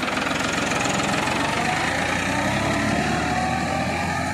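Farmtrac tractor diesel engine with a turbocharger running under full load, a loud, close, steady rhythmic thumping drone with a rough knocking pulse throughout.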